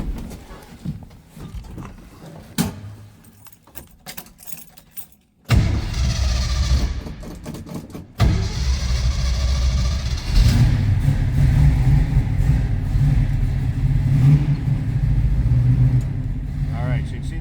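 A 1971 AMC Hornet SC/360 V8 cranks briefly and catches with a loud roar, then revs and settles into a deep, rumbling idle with further blips of the throttle, close up and continuing for several seconds.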